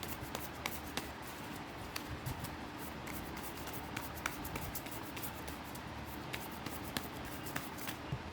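Oracle and tarot cards being shuffled by hand, a soft continuous riffle with faint regular taps and flicks, quiet and close, no voice over it.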